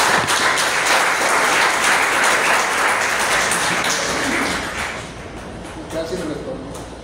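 Church congregation applauding for the Lord, a loud wash of clapping that holds for several seconds and then fades out, with a voice speaking as it dies away.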